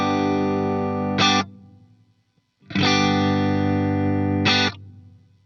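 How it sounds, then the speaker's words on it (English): A guitar G chord played through the Glitz reverb on a Line 6 POD Go, loud and sustained with a distorted, shimmering tone; two strums in sequence, each ringing out into a long, deep reverb tail. "I'm gonna play a G chord again and you listen to the tail of the reverb."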